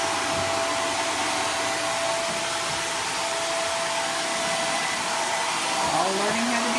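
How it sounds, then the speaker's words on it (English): A Dirt Devil vacuum cleaner runs at close range indoors in a house, a loud steady whine with a high motor tone, briefly shifting pitch near the end. "Jonathan using his new Dirt Devil vacuum that his grandma bought him for his birthday, for his new house."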